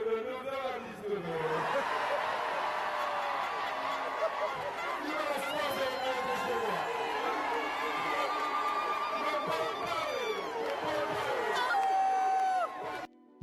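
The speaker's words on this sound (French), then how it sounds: "J'ai dû baisser le son tellement les acclamations étaient bruyantes" A loud crowd roars and cheers for a political leader, a dense sustained wall of shouting voices with whoops and chatter that runs for over ten seconds before cutting off abruptly.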